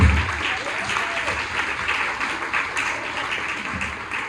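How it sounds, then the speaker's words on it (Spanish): Applause from a church congregation at a sermon by a pastor, steady, dense clapping that holds for several seconds, with voices faintly mixed underneath. "un aplauso para las servidoras"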